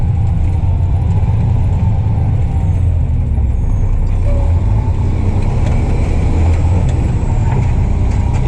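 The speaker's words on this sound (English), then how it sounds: "different tractor trailers hauling dirt and rock in, and dump trucks as well. So a lot of heavy equipment comes through here" Tractor trailers and dump trucks hauling dirt and rock through a heavy-equipment route produce a loud, steady low diesel rumble throughout, with no voices.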